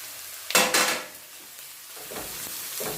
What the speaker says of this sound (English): we're going to be adding the garlic and the ginger